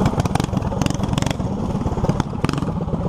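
A motorcycle engine revs close up as the throttle is worked, a loud, rough, pulsing exhaust note with quick surges and clattery mechanical texture.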